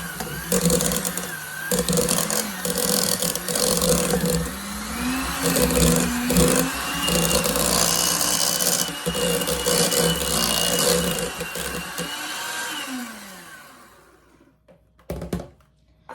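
An electric hand mixer whirs steadily while mixing cream cheese and sour cream in a bowl, its motor pitch shifting as it moves, loud and close, then stopping near the end with a brief clatter.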